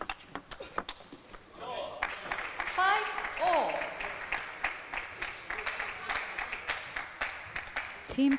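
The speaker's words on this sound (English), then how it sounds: "Still clapping for their teammate, but just a little less animated" At a T2 APAC 2017 table tennis match, teammates on the bench keep up a light, scattered clapping that comes in uneven bursts, under a commentator's steady talk.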